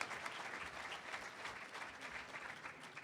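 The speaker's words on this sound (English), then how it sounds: "How about a big round of applause for all?" Faint, distant audience applause at a political debate continues steadily throughout, a soft wash of many hands clapping with no speech over it.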